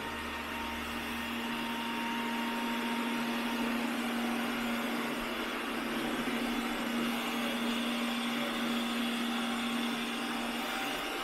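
An Ecovacs Deebot N79S robot vacuum hums at a steady, even pitch while running its edge-cleaning mode, heard close and alone with no talking.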